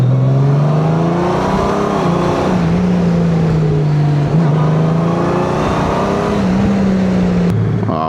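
A Honda Gold Wing GL1800 DCT motorcycle engine hums loud and close, its steady tone rising and dipping as the rider shifts through gears, with no one speaking.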